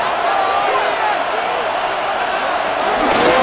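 Video-game stadium crowd from a Madden NFL 26 simulation of Pittsburgh Steelers versus Cincinnati Bengals, a dense continuous roar that holds steady and loud throughout, with faint voices mixed into the wash of noise.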